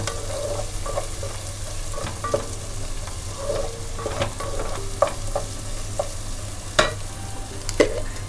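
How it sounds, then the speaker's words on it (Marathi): Masala of Kashmiri and bedgi chili sautéing in a pan for village-style chicken, with steady sizzling under repeated spoon scrapes and clicks against the pan. "हे चांगलं परतून घेऊया"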